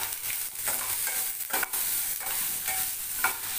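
Onions sautéing in a pan for pirandai chutney, an Indian adder's-vine relish, giving a continuous soft sizzle close by with occasional scraping stirs of a utensil.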